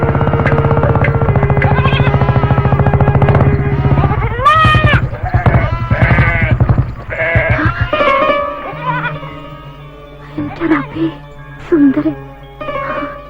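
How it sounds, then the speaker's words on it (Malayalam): Goats bleat in a series of loud, wavering cries close by, one after another, following a stretch of sustained background noise, with quieter bleats trailing off toward the end. "ആടുകൾ പോട്ടെ."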